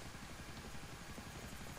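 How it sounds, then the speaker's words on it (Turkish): In GTA IV multiplayer a helicopter hovers overhead, its steady rotor chop faint and continuous for a couple of seconds with no talking. "Üstünüzde helikopter var."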